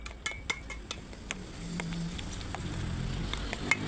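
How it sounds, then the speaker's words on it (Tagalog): Metal spoon clinking against a bowl while shrimp recipe ingredients are stirred together, sharp irregular taps and scrapes up close with a low background hum. "Masagol siya sa maayo."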